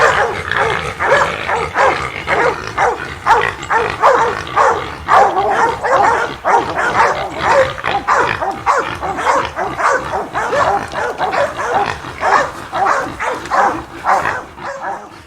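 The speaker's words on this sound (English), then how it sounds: "letting the barks of the dogs mask his approach" Hunting dogs bark rapidly and continuously at a group of wild hogs in South Texas brush, a loud, close, steady volley of overlapping barks and yips with occasional whimpers, no talking.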